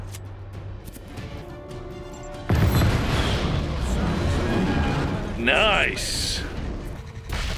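Explosions tear apart a radar installation in Just Cause 3, a loud crashing blast erupting midway and rumbling on with debris and game effects, with someone talking briefly over it.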